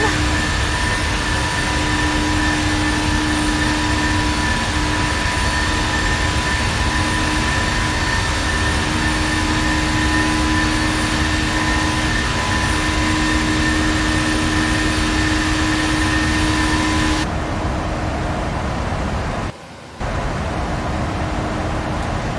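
Steady simulated jet engine drone of a Boeing 737-800 in a flight simulator game, a constant loud roar with a tonal whine that drops away near the end, followed by a brief gap.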